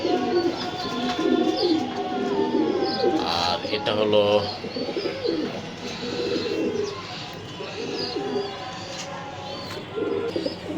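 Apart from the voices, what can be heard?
racing pigeons cooing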